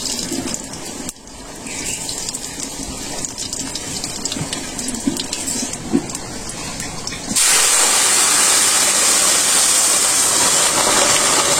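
Whole spices tempered in hot oil in a traditional Bangladeshi village kitchen, a loud, broad hiss that jumps up suddenly partway through and keeps sizzling steadily after quieter background noise.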